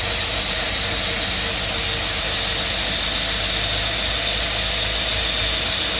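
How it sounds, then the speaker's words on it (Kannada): A machine cutting stone produces a loud, continuous, harsh grinding roar with a steady hiss and no pauses, heard close up the whole time. "ನೋಡಿ ತೋರಿಸ್ತೀನಿ ಕಲ್ಲು ಕಟ್ ಮಾಡ್ತಿರೋದು"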